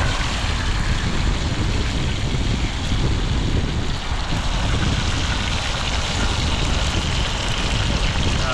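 Strong wind gusts steadily across open water on the way to a tilapia island, a constant loud broadband roar with buffeting low rumble that never lets up.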